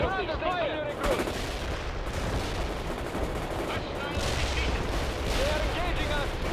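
Dense, continuous gunfire and artillery crackle and boom in World in Conflict, a war strategy game, a loud, relentless barrage with voices shouting over it throughout.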